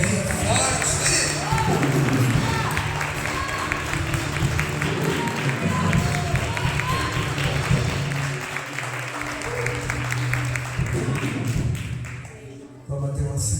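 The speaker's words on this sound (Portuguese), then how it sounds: "Se a tua alma anseia por Ele, aplauda Ele bem forte." A church congregation applauding loudly, with a dense, sustained crowd of clapping under raised voices and worship sound that carries on with only a brief dip near the end.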